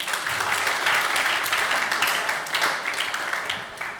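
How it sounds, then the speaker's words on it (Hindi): An audience breaks into a round of applause for two people called up in front, a dense patter of many hands clapping at a moderate level that swells and then starts to thin toward the end, without talking. "दोनों के लिए पहले जोरदार तालियां हो जाए।"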